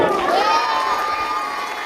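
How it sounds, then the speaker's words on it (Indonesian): Audience cheering and shouting in a room, a loud burst of crowd voices that holds steady for about two seconds and then eases slightly. "Tepuk tangan buat Nadia."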